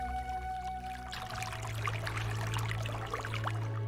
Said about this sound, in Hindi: बहते पानी की धुन जैसे एक प्राचीन मंत्र सुनाती हो